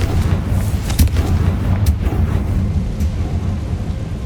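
Confringo fire-blast spell exploding in Hogwarts Legacy, a loud rumbling boom with sharp bursts near the start and middle, trailing into a dense low roar that carries through the whole stretch.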